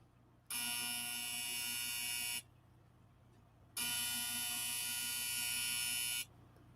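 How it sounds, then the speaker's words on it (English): An alarm clock gives two long, harsh electronic buzzes of about two seconds each, separated by a short pause, loud and close in a quiet room. "What a crappy alarm clock."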